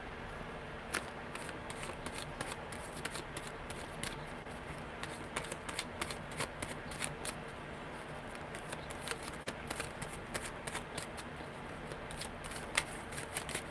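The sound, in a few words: shuffling a deck of tarot cards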